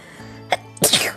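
A single person sneezes once during a sit-down chat, with a quick intake of breath and then a sharp, loud burst close to the mic.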